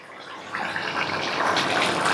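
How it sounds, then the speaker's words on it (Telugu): Tamarind fish curry made with bocha fish bubbling in a pot, a steady close simmering hiss and burble that swells slightly and continues alone without talk. "ఐదు నిమిషాలు అయిపోయింది చూసారా ఇట్లా ఉడుకుతుందో"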